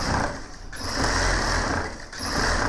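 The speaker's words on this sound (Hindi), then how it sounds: "और इस पे हम एक सिलाई करेंगे" A sewing machine stitching fabric for a gents suit, with a close, steady mechanical whir. It runs in continuous stretches broken by two brief slowdowns, with no talk.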